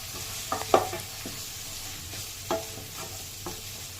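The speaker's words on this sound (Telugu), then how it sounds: "ఇలా ఉప్పు కారం అని పట్టే విధంగా ఒకసారి వేపుకుందాం" Onions frying with chili powder and salt in a pan for an egg and dried prawn curry, giving a soft steady sizzle broken by a few sharp spoon stirs and scrapes.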